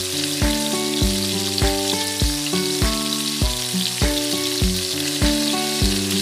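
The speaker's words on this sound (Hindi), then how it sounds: "इसको भी हम मसालों के साथ अच्छा सा भून लेंगे" Minced meat (qeema) fries with spices in oil, giving a continuous bright sizzle beneath louder rhythmic background music with regularly repeating notes.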